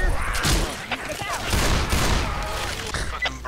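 Rapid gunfire rattles through a Left 4 Dead 2 fight, a dense continuous fusillade of close shots and thuds, with players talking over it.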